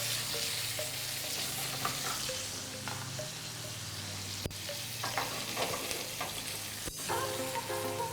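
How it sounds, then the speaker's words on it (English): A ribeye steak sizzles and crackles steadily in a hot pan, with a couple of brief sharp knocks and scrapes as it is flipped partway through. "so it's time to flip our ribeye again"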